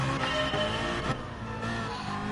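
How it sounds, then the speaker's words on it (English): A race car in the video game Gran Turismo Sport gives a loud, continuous engine drone with steady revs and a brief surge partway through, with no voices. "I'm hoping you can hear me over the sound of the car"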